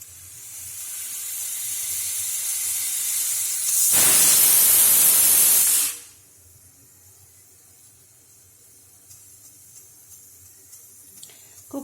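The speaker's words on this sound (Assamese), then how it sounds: "কুকাৰটোত মই 2টা চিটি যাব দিছোঁ।" A pressure cooker venting steam during cooking, with a sharp, loud whistle-like hiss bursting for about two seconds partway through and then cutting off to a quiet kitchen background.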